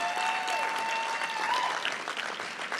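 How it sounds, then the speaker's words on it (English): Audience applause at the Champions for Change 2024 charity fundraiser event, honoring the Georgia Pacific Foundation: a steady, dense wash of many hands clapping that holds evenly throughout, with a faint tonal whine running beneath. "Can we have another round of applause for Carrie and her colleagues of the Georgia Pacific Foundation?"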